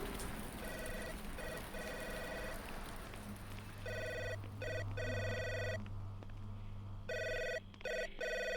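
A telephone rings repeatedly in bursts of electronic trills inside the video game Three Minutes To Eight, set against steady rain and a low ambient hum, with brief pauses between the ring cycles.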